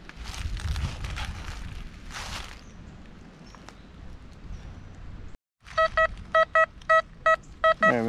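Metal detector emitting a series of repeated short electronic beeps during a treasure hunt outdoors in woods, following a stretch of rustling and footsteps; the tones come in regular bursts, clear and close.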